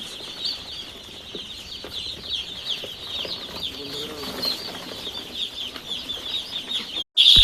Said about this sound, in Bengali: আমি কিন্তু আমার মুরগিগুলোকে ছেড়ে দিয়েছি বোর্ডিং এর মাঝে।